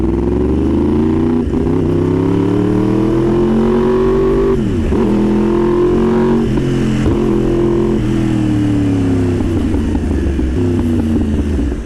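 A 2018 Yamaha R1 sportbike engine screams loud and close, climbing through revs with sharp quick drops where the auto-blipper shifts clutchlessly, several rising sweeps over about twelve seconds with no talk.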